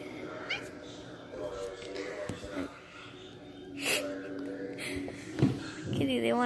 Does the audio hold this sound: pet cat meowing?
yes